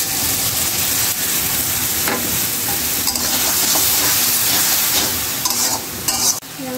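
A spice paste of turmeric and chili mixed with water fries in oil in a pan, giving a constant loud sizzle with scraping stirs and a few clatters near the end, no talking.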